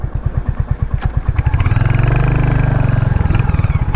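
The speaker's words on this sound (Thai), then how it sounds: "ฟังเสียงท่อนะฮะ" A Royal Enfield Hunter 350 exhaust thumps in a loud, even single-cylinder idle, then rises into a smoother rev and drops back, all close with no talking.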